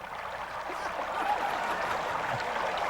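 A button sound device plays a water effect, a steady rushing, trickling stream that runs continuously at moderate loudness with no voices.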